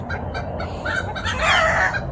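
Backyard chickens and a big rooster cluck excitedly while chasing one another outdoors in the morning, a close, busy burst of squawks rising to a louder flurry.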